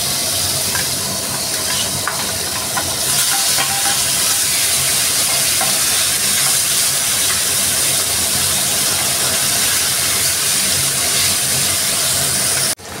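Hilsa fish fries lightly in hot oil, giving a continuous close sizzle and spitting hiss with small pops, steady and loud throughout before stopping sharply at the end.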